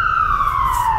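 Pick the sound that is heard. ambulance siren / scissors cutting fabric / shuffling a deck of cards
ambulance siren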